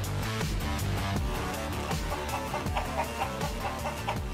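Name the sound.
chicken clucking in World of Warcraft Classic video game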